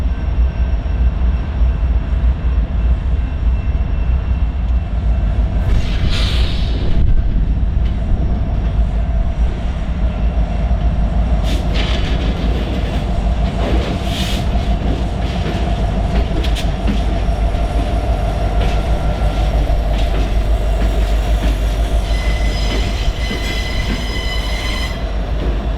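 CN freight train L552 rolling through the Quinnesec turnout, a loud continuous rumble of wheels with repeated squeals and metallic screeches over the track, sustained throughout with no voices.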